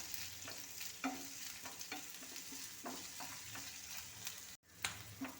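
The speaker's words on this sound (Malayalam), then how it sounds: "അതിലേക്ക് നമുക്ക് ഈ സവാള എങ്ങോട്ട് ഇട്ട് കൊടുക്കാം. സവാള നല്ലതുപോലെ വാട്ടിയെടുക്കണം." Sliced onions sautéing in vegetable oil in a pan, a soft, steady sizzle with regular clicks of a spoon stirring, fairly quiet and close, with no talking.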